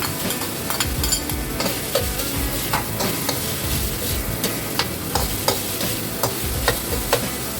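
Onion frying alongside eggplant in a hot pan makes a steady, continuous sizzle, with scattered scrapes and clicks of stirring over the whole stretch and no voices.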